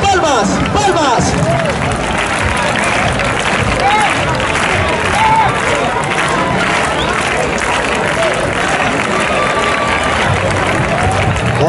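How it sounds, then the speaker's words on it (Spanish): A crowd in a festival bullring at Casetas, Zaragoza, claps steadily in rhythm amid babble and cheering, dense and continuous throughout. "vamos a dar unas palmas, palmas, palmas"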